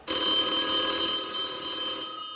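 A telephone rings loudly with a steady, bright electronic trill for about two seconds, then fades out. The ring comes on a TV talent show set.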